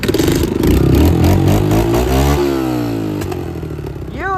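A 20-year-old motorcycle engine kicks over, catches and revs, loud and close with a rough clattering idle rising into a throaty rev, then settling back down.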